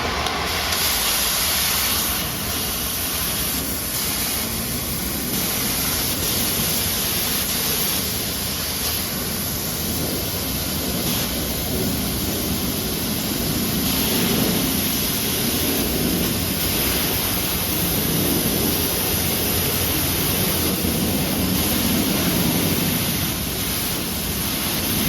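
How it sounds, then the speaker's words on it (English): A Magic Eye profiler's cutting torch set at 30 degrees, cutting a weld prep: a steady, loud roaring hiss of gas and flame that runs unbroken, with no voices over it. "I'll set the torch at 30 degrees and then cut down there at 30 degrees to put the weld prep on."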